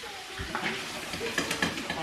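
Ackee and saltfish sizzle and bubble in a pot, a soft crackling fry broken by light clinks and stirring sounds of a utensil against the pot, fairly quiet and close.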